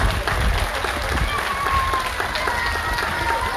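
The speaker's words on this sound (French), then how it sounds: "Des applaudissements pour eux, s'il vous plaît." Steady, dense applause from an audience at an outdoor village patronal festival concert, filling the whole stretch loudly and evenly, with some crowd murmur mixed in.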